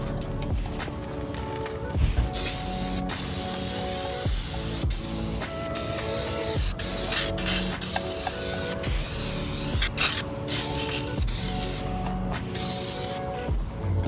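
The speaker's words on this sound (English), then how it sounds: "I'm going to try this Stoner Car Care Tar and Sep Remover." Stoner Car Care tar and sap remover sprayed onto a 2002 Camaro SS, repeated short hissing spray bursts with clicking trigger pulls, close and loud over faint background music.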